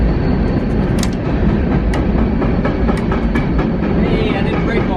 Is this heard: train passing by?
yes